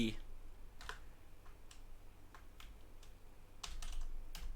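Computer keyboard being typed on, scattered keystrokes and short bursts of clicks spread irregularly across the stretch, with a quicker cluster near the end, fairly close and light over a low room hum.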